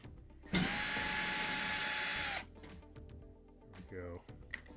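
A power driver backs Phillips-head screws out of a Whirlpool/Kenmore gas dryer in one close, steady two-second whir. Quieter handling clicks and shuffling follow.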